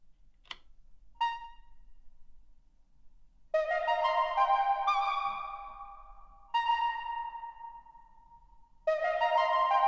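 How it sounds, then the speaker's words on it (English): Electronic tones from an Elektron Tonverk pass through the Rumsklang Reverb effect at maximum size, a few plucked and chord-like notes that bloom and ring out in long, spacious tails, heard alone with no talk. "Rumsklang Reverb is great for simulating large spaces, and with size set to max, it creates the feel of a massive environment"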